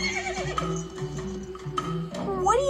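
A pony whinnies in a short, bright neigh with rising and falling pitch, fairly close, over a steady low background hum.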